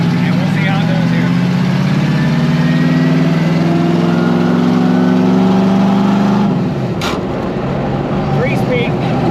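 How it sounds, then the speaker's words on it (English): 413 coupe hot rod on freshly trued tires pulling up to speed, a steady loud engine drone with road and wind noise that drops off toward the end. "So we're taking a ride in the 413 coupe after the tires have been all trued."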